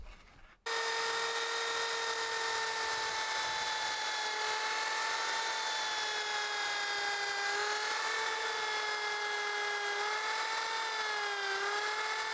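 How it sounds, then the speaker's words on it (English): Power drill whining steadily as it drives screws into the wood of a homemade mason bee hive, starting abruptly after a brief quiet moment and holding a sustained, loud motor tone with slight pitch dips under load. "I'll now put some screws in here and on the other side."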